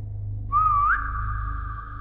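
One clear whistle, a short rising note that slides up and then holds steady for about a second, over a low constant hum.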